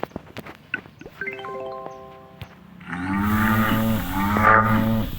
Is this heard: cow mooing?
yes